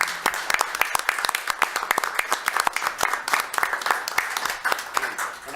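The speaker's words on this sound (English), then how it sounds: "have a round of applause for our folks" Applause at a city council meeting: a crowd claps steadily with distinct individual hand strikes standing out, fairly close and sustained for several seconds, easing slightly at the end.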